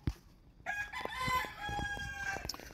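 A rooster, a gamecock kept on a Filipino farm, crows once in a single full, clear call that starts after a brief quiet moment and carries close and loud with slight clucking at the end.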